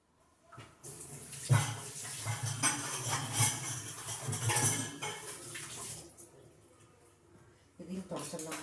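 Ingredients being washed in water in a vessel, a continuous splashing and sloshing with clinks of a pot, close and fairly busy for several seconds before falling quiet, then resuming briefly; a voice speaks faintly in places.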